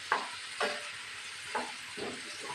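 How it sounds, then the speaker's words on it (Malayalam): Onions frying in oil poured from earlier egg frying, stirred in a pan for an egg roast: a steady soft sizzle with several scraping stir strokes at irregular intervals, fairly quiet and close, no talk. "അപ്പോൾ നമുക്ക് നേരത്തെ മുട്ട ഫ്രൈ ചെയ്ത ആ എണ്ണ നമുക്ക് ഇതിലോട്ടങ്ങ് ഒഴിച്ചെടുക്കാം."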